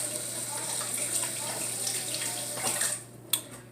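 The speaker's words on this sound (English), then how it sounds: "I'm gonna wash my hands." Tap water runs steadily into a kitchen sink while hands are washed during brownie baking, a close continuous splash that cuts off near the end, followed by a single brief knock.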